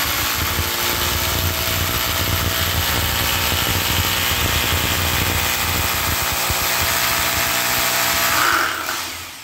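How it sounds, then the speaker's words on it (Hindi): A power drill boring holes in a door for screw fixings, a steady loud whirring motor hum running continuously and cutting off at the end. "ये देख सकते हैं इसमें ड्रिल हो गया है।"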